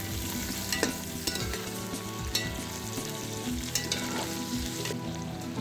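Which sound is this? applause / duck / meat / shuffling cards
meat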